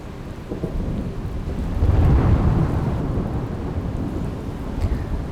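Heavy monsoon rain pours steadily in Surat while a deep roll of thunder swells in the middle and fades, with no voices.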